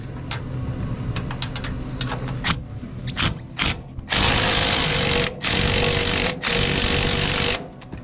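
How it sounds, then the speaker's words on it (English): An 18mm bolt being loosened with a ratchet or impact tool on a 2007 Chevy Silverado during a leveling kit install, clicking ratchet strokes followed by several loud sustained mechanical bursts with short pauses between. "We got 3 18mm screws you gotta take off from the top."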